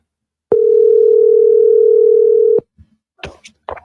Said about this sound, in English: Did y'all hear that ringing?